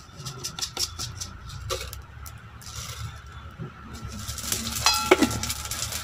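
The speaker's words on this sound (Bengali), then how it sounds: "এবার আমি ফোড়নে দিয়ে দেব গোটা জিরে।" Whole cumin seeds sizzle in hot oil as a tempering for gourd and fried lentil dumplings, a steady close crackle with brief louder spits and utensil clinks near the end.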